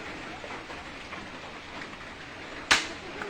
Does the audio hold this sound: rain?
yes